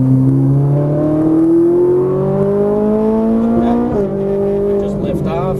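A Ferrari 458 Italia on a racing track accelerates hard out of a turn, its engine note rising loudly and steadily, dipping briefly at a gear change before climbing again.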